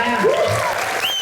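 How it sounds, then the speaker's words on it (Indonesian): An audience applauds at a theatre production performance, steady crowd clapping with a rising and falling voice or whistle-like tone cutting over the top. "Tepuk tangannya dulu dong semuanya"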